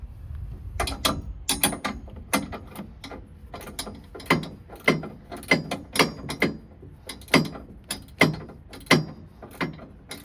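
A wrench clicks as it ratchets down fasteners to secure a loaded motorcycle for overland travel, a long series of sharp, close mechanical clicks in an irregular steady rhythm.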